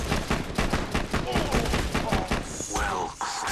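Rapid repeater pistol fire in Borderlands 2, a dense stream of sharp game gunshots cracking out one after another in quick rhythm, loud and close, with brief in-game noises mixed in.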